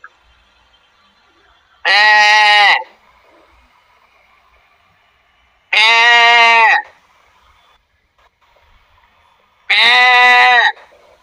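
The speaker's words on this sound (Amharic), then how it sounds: "ቤት ውስጥ ሌላ ፍየል አለ ኢድሪስ?" A goat bleats three times indoors at a home, each call loud, drawn-out and wavering, spaced about four seconds apart with near silence in between.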